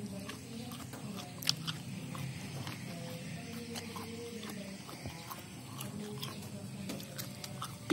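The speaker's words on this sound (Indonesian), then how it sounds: "Kelapa cukup dimakan mentah aja." Raw coconut flesh being bitten and chewed, giving close, repeated crunchy bites and wet chewing over a steady background, with a few sharper crunches.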